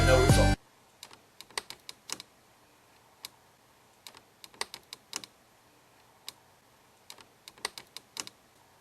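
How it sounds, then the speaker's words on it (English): Someone types a search into a computer keyboard, sparse clicks of single keystrokes and short bursts spread across several seconds, fairly close, after a brief loud sound at the start. "I have literally set up a camera to see myself typing it into the search bar"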